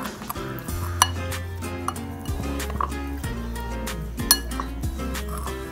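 Chicken being mixed with turmeric, garam masala and pepper powder in a kitchen, giving repeated clinks and scrapes of a utensil against a metal pot or dish, with steady low cooking hum underneath.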